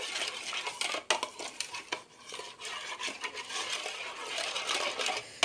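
Warm water and yeast being stirred in a bowl with a utensil, bright scraping and clinking of metal against the bowl in an irregular continuous rhythm, close and without talk.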